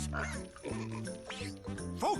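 Cartoonish pig oinks and squeals from a morphing weapon in the Ratchet & Clank video game, several short snorting grunts in quick succession mixed with game effects and a light tinkling chime.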